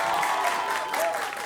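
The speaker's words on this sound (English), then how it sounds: "big round of applause for South Plantation" A short burst of steady audience applause for the school quiz teams fills the hall, a dense even patter of many hands at a moderate distance.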